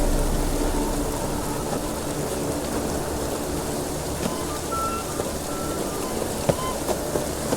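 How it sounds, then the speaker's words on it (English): Steady rainfall hissing continuously in the video game The Witcher 3, with a faint low rumble beneath and a few soft tonal blips. "It only ever rains these days."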